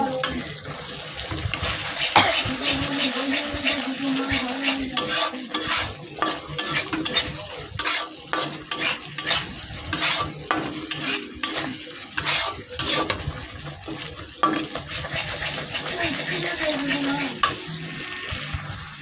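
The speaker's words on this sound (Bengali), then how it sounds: "ভালো করে আমি কষে নিচ্ছি যাতে কাঁচা গন্ধটা চলে যায় পোস্ত আর সর্ষের" A poppy seed and mustard paste masala is stirred in a pan with rhythmic, fairly loud scraping strokes over a soft frying sizzle, pausing briefly between bursts.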